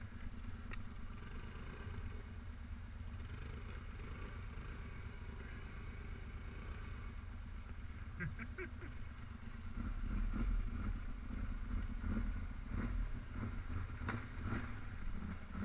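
A Honda three-wheeler ATV putters along slowly over rough ground, a steady low engine drone that thickens and grows louder toward the end, with a few faint clicks and rattles.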